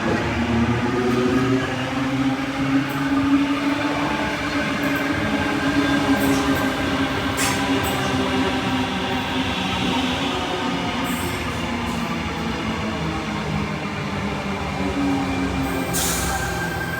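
A train rumbles along a noisy railway line near Waverton, its wheels and carriages droning steadily for the whole stretch, with occasional metallic squeals and clanks rising over the continuous roll.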